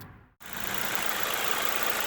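A 2005–2011 Ford Focus engine runs at a steady idle just after a thermostat replacement. The sound is a close, continuous mechanical hum that follows a brief drop at the start, with no voices.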